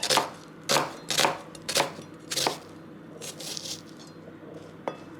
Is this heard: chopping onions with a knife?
yes